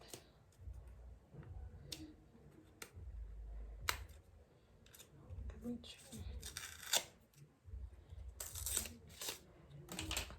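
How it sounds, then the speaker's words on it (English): Protective paper peeled off a new GoPro Hero 9 camera gives close, quiet tearing and crinkling with scattered sharp clicks and rustles, broken by pauses. "Okay, so I'm going to take this paper off."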